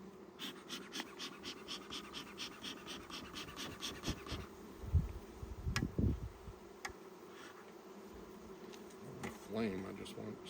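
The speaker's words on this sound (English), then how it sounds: "all the bees are coalescing right here" Honeybees buzz steadily around a hive during a hive inspection, with soft thumps and brief rustling handling noises partway through.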